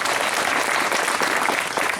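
An audience at a Brahma Kumaris bhoomi pujan ceremony claps in a dense, continuous burst of applause, close and loud throughout.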